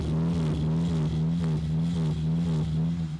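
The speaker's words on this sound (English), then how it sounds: "what you can probably hear is this car doing something weird right now" A race car engine drones at a steady pitch with rough, uneven pulsing and sputtering, close and loud, no voices.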